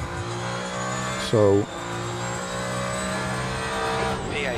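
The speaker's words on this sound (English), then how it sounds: "jump into my favourite my favourite hypercar in the game, the old Ferrari 499P" A Ferrari 499P hypercar engine in the racing game Le Mans Ultimate holds a steady high-pitched drone throughout, briefly covered by a short spoken word.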